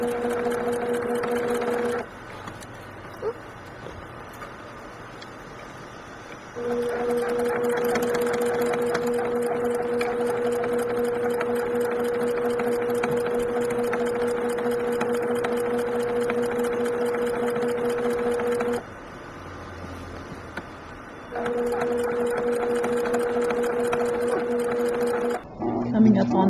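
A sewing machine stitches a fitted fabric face mask in long continuous runs of rapid mechanical whirring, close and loud, stopping briefly twice between bursts.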